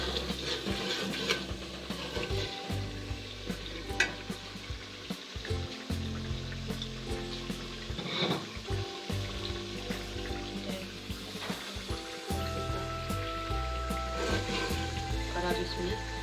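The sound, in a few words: spices and curry leaves frying in ghee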